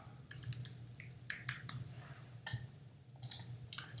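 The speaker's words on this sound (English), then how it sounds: "I'll type in Photoshop," Quiet bursts of typing on a computer keyboard, quick clusters of key clicks separated by short pauses over a low steady hum.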